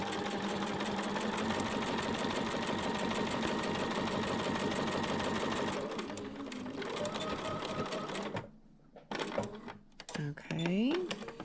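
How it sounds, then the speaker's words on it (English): A sewing machine stitches a seam on a quilt block, running in a fast, even mechanical chatter for about six seconds before slowing and stopping, followed by brief handling clicks and a short voice. "we're going to stitch right down to this intersection"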